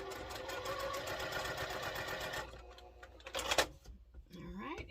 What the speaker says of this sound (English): I think I'll just chain piece them through just to make it a little quicker